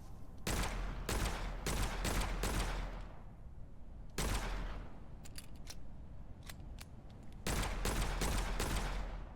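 The Hunger weapon firing in the dark-fantasy shooter Witchfire: loud bursts of rapid shots in clusters, separated by pauses with a few short sharp clicks, with no voices.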